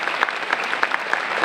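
Audience applause at a Reaching for Rainbows 2025 event honoring a leader, a dense steady patter of clapping with a few sharper individual claps and a voice faintly underneath.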